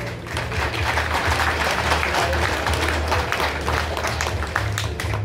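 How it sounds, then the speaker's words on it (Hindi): Loud, dense applause from a large crowd at an ex-servicemen rally in a Lucknow stadium, steady and sustained throughout without a break. "एक बार स्क्रीन पर ही हौसला बढ़ाने के लिए जोरदार तालियां आप सभी से"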